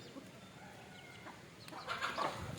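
A chicken blind in one eye clucks softly near a dark hen and a rooster in a rural yard, faint scattered calls rising toward the end with no talk over them.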